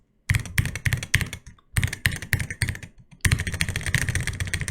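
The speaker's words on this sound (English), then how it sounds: "Let's see the sound test." A Wooting UwU keyboard with light switches is typed on in bursts of rapid, close keystrokes, clacking quickly in short runs separated by brief pauses.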